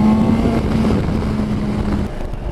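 BMW S1000 XR motorcycle accelerating hard past 7,000 rpm: a loud, close engine drone holding a steady tone, then dropping abruptly near the end as the pull eases.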